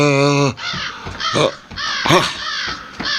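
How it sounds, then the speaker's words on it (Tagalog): Large crow cawing as it flies overhead, a series of loud, harsh, rasping caws in uneven bursts, close and prominent, with a voice-like tonal cry at the start. "May malaking uwak na lumilipad sa itaas."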